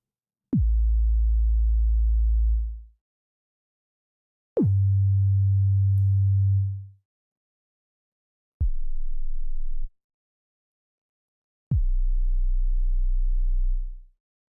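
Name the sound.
synthesized kick drum with long hold in Surge XT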